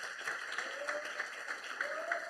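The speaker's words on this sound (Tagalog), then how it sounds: "Malakas na palakpak, pang 30 anyos na, 30 years na palakpak." Church congregation clapping at a 30th anniversary service, rapid scattered claps forming a brief, moderately close burst of applause without speech.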